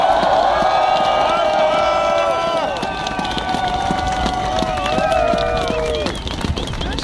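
At an outdoor demonstration, a large crowd breaks into loud applause and cheering, a thick roar of clapping and shouting voices that eases somewhat after a few seconds but carries on steadily, with scattered whistles and calls.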